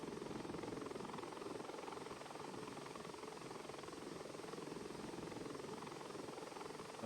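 A Bell 412 helicopter on short final approach to a helipad, its rotor and engine making a steady, loud, continuous thrum throughout with no talk.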